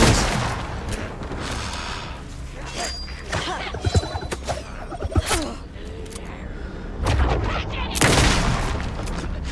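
Hunting rifle gunfire in the video game Alan Wake 2, several loud sharp cracks spread across the clip with booming tails, over background game ambience and someone talking.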